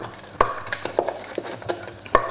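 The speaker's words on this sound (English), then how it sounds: "now we've got to quickly just whisk this around quite vigorously, get it all mixed up" Choux pastry dough whisked vigorously in a pan off the heat, with irregular close knocks and scrapes of the whisk against the metal and soft, thick stirring between strokes.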